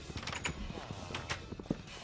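Faint horse hooves in the game FTB Infinity Evolved clop along in a loose walking rhythm, quiet and somewhat distant, mixed with other soft background noises.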